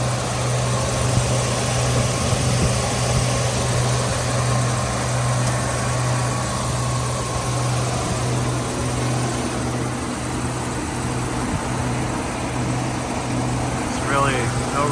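The 5.3-litre V8 of a 2011 Chevrolet Tahoe LT 4x4 runs at a steady idle, a constant low hum close by that holds unchanged throughout, with a voice speaking over it.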